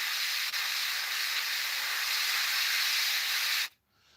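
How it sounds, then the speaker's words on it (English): Airbrush spraying paint onto the underside of an A-4M Skyhawk scale model aircraft: a steady, close, loud hiss that runs continuously and then cuts off abruptly near the end. "just spray the bottom, maybe come slightly up the sides of the edges as well"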